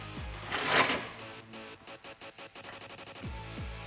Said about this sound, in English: Now you can tighten that down with a 17mm socket.